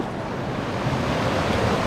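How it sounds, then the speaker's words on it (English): A waterfall on the Timberline Trail around Mt Hood pours in a steady, dense broadband rush, close and unbroken, with no voices. "It's a cool waterfall up there."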